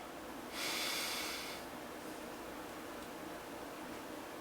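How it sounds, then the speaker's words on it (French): A single deep breath drawn in, a soft airy rush lasting about a second, close and quiet over faint room hiss, with no talking. "tu vas prendre une grande respiration"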